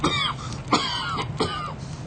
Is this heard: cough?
yes